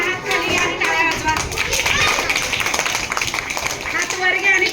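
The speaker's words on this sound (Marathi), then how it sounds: "चला हात खाली घ्या आणि टाळ्या वाजवा." A group of children claps hands during a classroom concentration game, producing a steady patter of overlapping claps beneath a teacher's continuous spoken directions.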